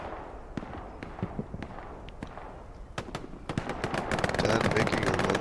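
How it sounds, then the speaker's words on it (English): Incoming rockets in a multiplayer military shooter match, heard as a rapid crackle of sharp bangs and blasts that thickens into a dense, loud barrage with rumbling under it. "Rockets flying in into nothing."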